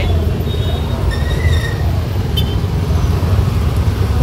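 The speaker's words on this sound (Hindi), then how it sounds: "अभी बहुत ट्रैफिक है ना, आपको बताता हूँ पूरा ट्रैफिक ही ट्रैफिक है।" Heavy road traffic roars on without a break, a loud, dense wash of engines and tyres with a few faint horn toots, close by and steady for several seconds with no talk.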